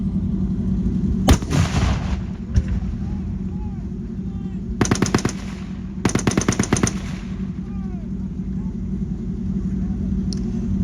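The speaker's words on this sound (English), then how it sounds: "That's a 1919 A4 30 caliber machine." A Browning M1919A4 .30 caliber machine gun fires at a museum demonstration beside a World War II M24 light tank: a single shot, another sharp report, then two loud rapid bursts, each lasting under a second, over a steady engine rumble.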